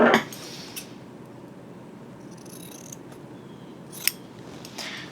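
Scissors snipping through the long end of fabric on a costume apron, a few crisp cuts near the start and again around four to five seconds, close and fairly quiet over a soft room hiss.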